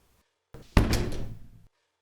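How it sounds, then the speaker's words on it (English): An office door slams once: a brief rustle of movement, then a single loud, close thud that rings and decays over about a second before silence returns. "ran back into his office, slamming the door"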